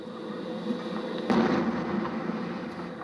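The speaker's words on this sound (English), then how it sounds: "it blows a gap in the minefield. It's a gigantic explosion." A mine-clearing line charge detonates across a 100-yard minefield, a single heavy blast rising out of steady rumble and rolling on as a long, distant-sounding roar.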